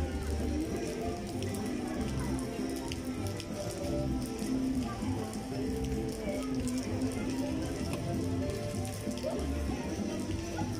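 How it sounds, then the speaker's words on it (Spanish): Rain falls steadily in Juxtlahuaca in early January, a dense continuous patter of drops hitting surfaces throughout, fairly faint and even, with no clear break. "El día de hoy está lloviendo"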